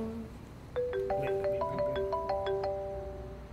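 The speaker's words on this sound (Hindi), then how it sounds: "उसका फोन आ रहा है" A short electronic ringtone melody plays a quick run of bright, stepped tones, moderately loud, over faint background hiss, with no speech.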